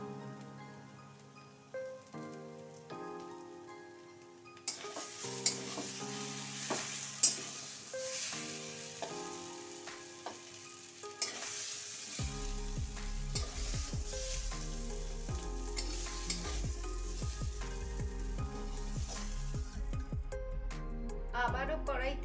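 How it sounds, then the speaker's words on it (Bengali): Potato pieces fry and are stirred in a wok, a continuous sizzle with scraping strokes running under background music at moderate loudness. "আলুটা বেশ ভালোভাবে ভাজা ভাজা হয়ে গেছে"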